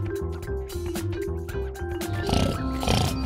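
A cartoon pig oinks in a short, rhythmic series of nasal grunts over a music bed, with a few louder snorts toward the end.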